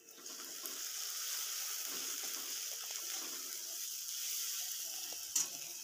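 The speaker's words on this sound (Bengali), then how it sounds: "পেঁয়াজগুলো দিয়ে ভালোভাবে ভেজে নিতে হবে।" Onions fry in caramelized sugar in a pan, giving a constant hissing sizzle at moderate level with faint stirring scrapes and no talk.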